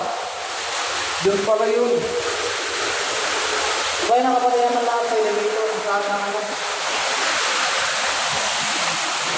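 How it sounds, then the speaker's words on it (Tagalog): Heavy, steady typhoon rain pouring down in Bacnotan, La Union, a loud continuous broadband roar filling the whole clip while people talk over it. "Lakas ng ulan kasi. Sobra."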